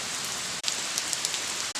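Steady, dense rain pattering on surfaces in a garden, a continuous wash of drops with no voices, close and fairly loud throughout.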